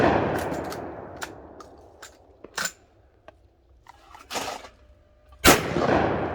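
Shots from a cheap Chinese-made PW87 clone of the Winchester 1887 lever-action 12 gauge shotgun, several sharp loud reports with decaying echoes, spaced irregularly apart, alongside fainter clicks and knocks.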